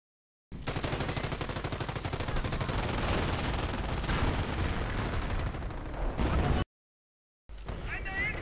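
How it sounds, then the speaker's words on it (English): Artillery and heavy gunfire rattle continuously in a World War II real-time strategy battle, a dense loud barrage with rapid bursts, cutting off abruptly and resuming briefly after a short silence. "artillery going in right there"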